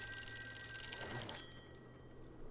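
A phone in the Call of Cthulhu video game finishes a ring, a bright electronic trill that stops abruptly partway through, leaving a quiet background hum.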